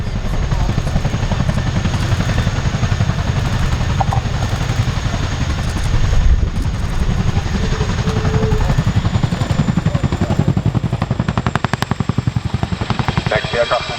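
A Royal Air Force Chinook helicopter performs a role demonstration at the RAF Cosford Airshow. Its loud, close twin-rotor chop and engine roar run steadily through the whole stretch.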